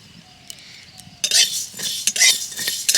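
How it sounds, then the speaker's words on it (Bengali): Spices dry-roasting in a very hot, empty wok start quietly with a couple of light clinks, then turn into loud, rattling scrapes and tosses in several quick bursts. "এগুলোকে আমি একটা শুকনো কড়াই ভেজে নেব কড়া গরম হয়ে আছে কড়াইতে দিয়ে দিলাম এবারে ভেজে নেব"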